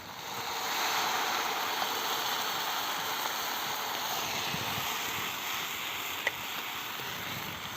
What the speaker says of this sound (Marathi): आपण आता ह्यात थोडंसं पाणी घालू.